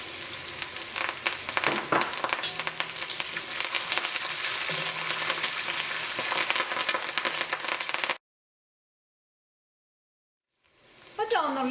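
Dried red chillies and curry leaves sputter loudly in hot coconut oil with shallots, a busy crackling sizzle that cuts to silence before frying resumes briefly at the end.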